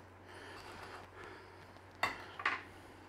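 A knife cuts a crispy corned beef and cabbage egg roll in half on a plate, with faint crackling followed by a couple of sharp clinks of metal on a dish, quiet and close.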